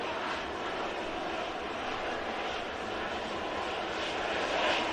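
A TUI airliner's jet engines roar near a runway, a steady broad rumbling wash that holds loud and constant throughout with no talk.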